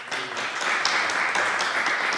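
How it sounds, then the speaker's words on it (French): Brief, moderate applause from a live audience at a French podcast jam event, voting on an entry; a steady wash of many hands clapping, fairly even and not very loud, with little talk. "Mais la deuxième a eu quelques applaudissements."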